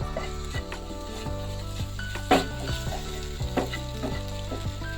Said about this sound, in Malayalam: നമുക്ക് ഈ ഒരു തോതിൽ നല്ല രീതിക്ക് ഒന്ന് വഴറ്റി കൊടുക്കാം